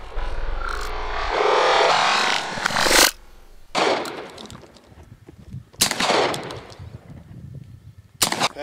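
A Dağlıoğlu FD 20 shotgun fires test shots at an outdoor shooting range: four loud, sharp blasts spaced a second or two apart, each with a short echoing tail, following a stretch of steady background noise.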